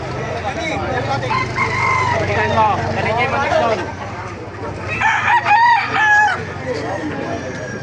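A rooster crows loudly at a chicken market in Baliuag, Bulacan, over a busy background of people talking and ambient noise, with another crow following near the end.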